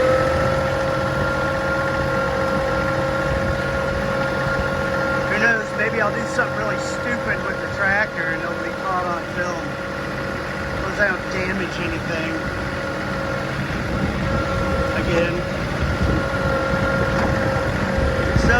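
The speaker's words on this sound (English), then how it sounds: "So show you what we do with the tractor. It's just gonna be noisy" A farm tractor runs in high gear while moving dirt, its engine droning in a steady, loud hum with a low rumble throughout, as someone speaks briefly over the noise.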